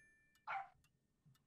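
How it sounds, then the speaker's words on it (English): A toy dog in the Hello Puppets Midnight Show video game lets out one short bark, sharp and close, followed by faint ticking and near silence. "And a dog."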